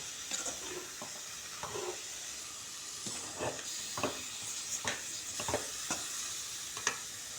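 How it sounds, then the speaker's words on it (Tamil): Grated coconut sautés in oil over a low flame, a soft steady sizzle broken by regular scraping stirs of a spoon against the pan, close and quiet with no talk. "எண்ணெய் தேங்காயும் போட்டு சிம்மில் தான் வச்சுருக்கிறேன் நல்லா வதக்கணும்"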